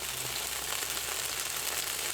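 Food fries in an air fryer, giving a steady hissing sizzle that stays even and fairly loud from start to finish, with no voices.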